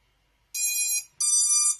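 A drone's flight controller buzzer sounds on power-up: two loud, sustained electronic beeps, each about half a second long, separated by a short gap, with nothing else around them.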